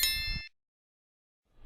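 A single bright bell ding rings out briefly and cuts off into silence, a notification chime used as a sound effect.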